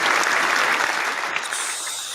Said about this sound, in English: so now that applause is done